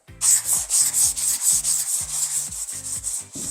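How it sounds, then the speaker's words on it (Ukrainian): Sandpaper of 180-240 grit scrubs back and forth across an old wooden table in quick, loud, rhythmic strokes, about a dozen rasping passes in a few seconds, with no voices. "І беремо абразивчики 180-240 для шебіка саме ідеальне рішення."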